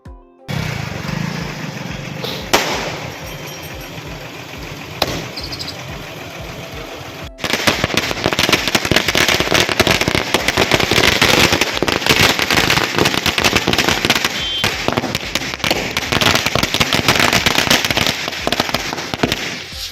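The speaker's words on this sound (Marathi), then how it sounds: "फटाक्यांच्या आतिषबाजीत त्यांचं कार्यकर्त्यांनी जोरदार स्वागत केलं" Firecrackers burst during a celebratory political welcome at a town square, a few scattered pops at first, then a loud, dense, continuous crackling barrage like rapid gunfire.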